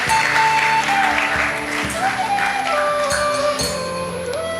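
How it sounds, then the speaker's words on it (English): Audience applause at a postgraduate symposium, a dense steady clapping that fills the hall close and fairly loud, with musical tones sounding beneath it. "So please give a big round of applause to Srinivas sir."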